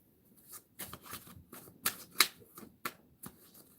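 Playing cards being shuffled by hand in a quiet room, a series of soft riffling flutters and taps in quick irregular bursts, close and alone.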